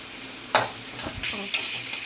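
Sliced onion, cumin and ginger garlic paste sautéing in oil with cinnamon and cloves for mutton kuzhambu, a crackling sizzle that swells partway through, punctuated by a few sharp stirring scrapes.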